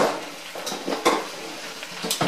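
Spinach tossed in a pan to wilt it, with repeated light clattering knocks of the pan over a steady hissing sizzle, the knocks coming at an irregular pace.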